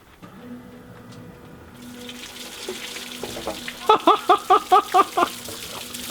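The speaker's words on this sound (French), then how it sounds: "Je te gage, si tu allumes ta pompe à l'eau, toute l'eau va sortir." Water spills and gushes out of a car's K24 engine as its water pump runs, a steady wet rush that grows stronger, with a run of rhythmic squeaky pulses near the end.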